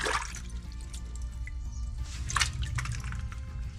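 Forest mushrooms being washed by hand in water to rinse off soil, giving steady close dripping and splashing with soft trickles throughout, without speech.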